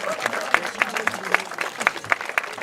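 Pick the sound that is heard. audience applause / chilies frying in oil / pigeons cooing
audience applause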